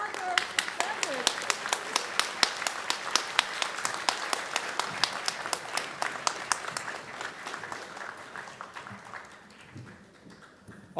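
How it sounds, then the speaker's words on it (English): Sustained audience applause at a 2024 international convocation ceremony honoring graduates, dense steady clapping from a large crowd in a hall that gradually thins and fades toward the end. "One more round of applause for graduates."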